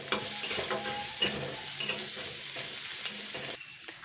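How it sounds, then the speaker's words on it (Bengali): Chopped onion, crushed chilli and two garlic cloves frying in a little oil while being stirred, with a soft close sizzle and repeated scraping strokes. "সামান্য তেলেই দেবো কুচানো পেঁয়াজ, থেতো করা একটা লঙ্কা, আর রসুন নিয়েছি 2 কোয়া"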